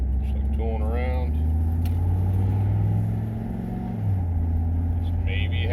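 A 1994 Suburban's 6.5L Detroit diesel engine pulling at about half throttle up an on-ramp, a loud low droning rumble heard from inside the cab that eases briefly midway, with a voice talking over it.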